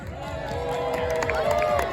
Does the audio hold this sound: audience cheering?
yes